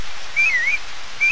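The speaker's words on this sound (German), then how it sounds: "Pfeifen." A short whistled call in the video game Harvest Moon: Back to Nature, one rising and dipping tone followed by the start of another, over a soft rushing background.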